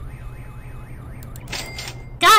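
Warbling car alarm in The Henry Stickmin Collection video game, a wavering electronic siren tone followed by a few sharp clicks and a sudden loud burst at the end.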